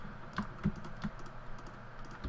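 Computer keyboard typing during a Minecraft game: a few quiet, scattered key clicks and taps close by, with faint background hiss and no talking.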